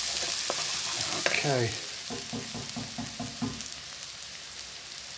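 Garlic sizzles and fries in a hot pan with a steady hiss and crackle throughout, while someone speaks briefly over it and stirring adds soft clatter.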